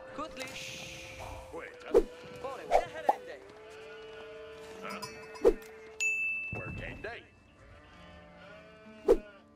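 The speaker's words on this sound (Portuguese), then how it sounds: "Uau, muito ovelha." Sheep in Age of Empires IV bleat several times at intervals, clear and fairly close, mixed with game effects and music, while a person talks over them.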